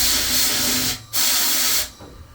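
A Harbor Freight sandblasting cabinet fires compressed air at about 115 PSI for gun prep, giving two loud, steady hissing blasts separated by a brief pause, the second cutting off into quiet.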